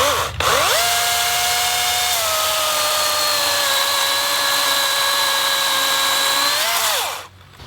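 A Dewalt cordless chainsaw cuts through wood under downward pressure, its motor spinning up with a whine, holding a steady high-pitched drone through the cut for about seven seconds, then winding down.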